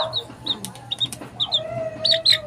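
Repeated soft chicken clucks and short chirpy calls, close by, with a few brief tweets scattered through and a low background hum.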